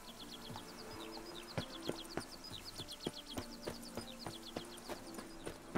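Roach, the horse in the video game The Witcher 3, clip-clopping with steady, evenly spaced hoofbeats, fairly close and quiet, while birds chirp steadily in the background.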